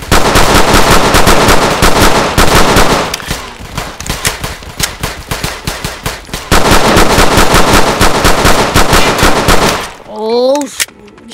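Loud, sustained automatic-sounding bursts of Glock 27 pistol gunfire in a video game, broken by a brief lull midway, with a short electronic warble at the end.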